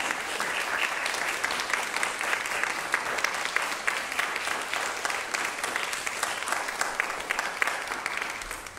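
An audience at a flute masterclass applauds the performing artists, a dense, continuous round of clapping from a modest crowd, even and sustained throughout.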